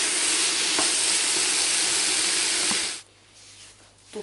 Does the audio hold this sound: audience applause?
no